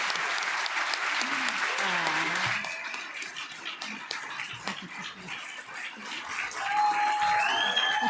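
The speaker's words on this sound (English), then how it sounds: "if we can have one more final applause for our candidates" Audience applause for candidates at a leadership debate in Lethbridge, a dense crowd clapping that fades into scattered claps, with a person speaking over the tail end.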